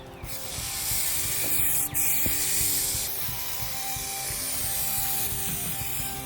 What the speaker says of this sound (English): This clear coat sprays a lot better than the other stuff.